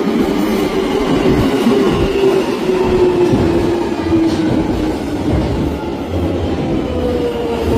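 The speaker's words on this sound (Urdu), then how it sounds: "یہ دیکھیے یہ ٹرین آ گئی ہے." A London Underground train pulls into a station with a loud, sustained rumble and clatter of wheels on rails, and a faint metallic squeal rises and falls over the roar.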